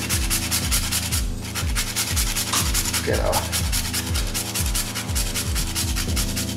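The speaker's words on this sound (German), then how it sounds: "eine Muskatnuss, eine frische. Kann man da auch so reinreiben." A fresh whole nutmeg is rubbed against a grater over seasoning salt, giving steady rasping strokes heard under continuous background music, with a brief spoken word.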